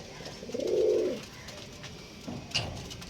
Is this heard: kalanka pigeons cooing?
yes